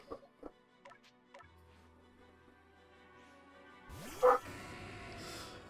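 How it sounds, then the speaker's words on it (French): A dog barks a few times in the background, short faint yips near the start, over a quiet electronic game-music backdrop that swells near the end. "vous devez sûrement entendre mon chien"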